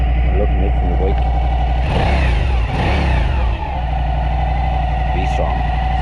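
A motorbike engine revs up loudly and close, climbing in pitch in a surge around the middle before dropping back to a steady idle rumble, with people talking over it.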